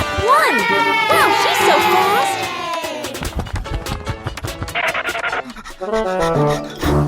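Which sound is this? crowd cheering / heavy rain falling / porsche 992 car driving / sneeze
crowd cheering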